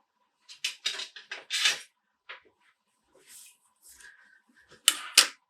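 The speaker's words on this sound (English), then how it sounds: "Now they want us to cut this string by 4 centimeters." Several quick, crisp snips as scissors cut string for a small model kite, arriving in a close, irregular burst, then a pause followed by a few sharper cuts near the end.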